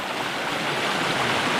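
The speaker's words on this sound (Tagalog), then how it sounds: "Kaya po ito, napakalinis po ito na tubig." Clean river water rushes steadily through a forested area strewn with large boulders, a loud, continuous broadband flow heard up close with no voices.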